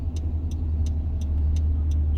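Road traffic rumbles steadily through a city intersection, a continuous low engine drone from passing cars with faint periodic ticking, like a turn signal, repeating about every third of a second.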